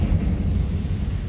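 Confringo fire spell blast in Hogwarts Legacy, a deep rumbling burst that stays low and heavy for over a second, loud and close with a slowly fading roar.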